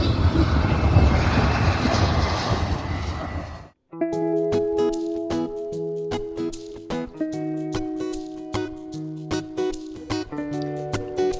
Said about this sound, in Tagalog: Ayan, may aeroplanong maglalan.